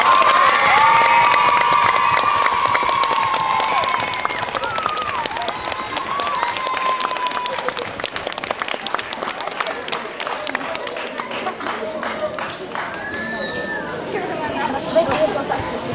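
Applause and cheering from an audience at a school award ceremony as the second-place finisher is honored, a steady crowd clapping with chatter and children's shouts mixed in, with sustained whistle-like tones over the opening seconds.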